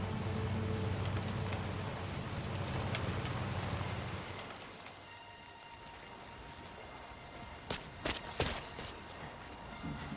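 Timefall rain in the video game Death Stranding 2: On The Beach, a dense steady hiss of rainfall that softens midway, followed by a few sharp close taps or footsteps near the end.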